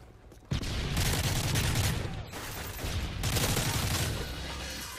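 Loud, rapid gunfire in a shooter video game rattles in dense continuous bursts, with a brief dip in the firing partway through before it resumes.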